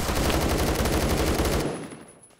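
Gunfire in the Roblox game Phantom Forces, a dense rapid automatic burst, loud and close, cutting off abruptly and leaving a faint ringing tail.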